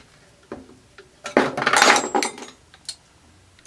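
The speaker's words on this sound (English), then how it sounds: "Now, the stock on this, the fore end is easy too. Just take a screwdriver. Just one little screw holds it." A screwdriver works out the single fore-end screw of a Savage 99 rifle, close metallic clicks and scrapes with a louder burst of handling and rattling in the middle, no voices.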